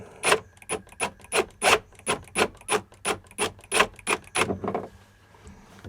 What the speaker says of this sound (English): So these step drills are really good.